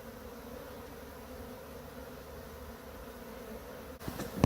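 Honey bees humming inside a hive removed from a storage unit, a dense steady drone held close and moderately loud, ending in a brief rustling handling noise.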